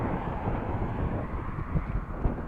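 Steady wind gusting and rumbling against a microphone outdoors while cycling on the northwest side of Groningen, a continuous low buffeting roar with no talking.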